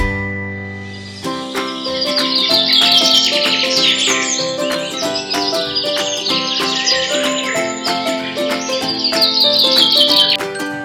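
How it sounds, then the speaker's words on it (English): Birds chirp and tweet in a garden, bright calls layered into a steady, dense stream that runs loud and continuous through the whole stretch after a quiet opening. "Can you hear the birds? Nature is full of beautiful sounds."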